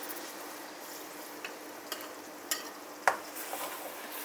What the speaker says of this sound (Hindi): इसमें मैंने 3 प्याज थी, ये पीस ली है, ये अभी मैं डाल दूँगी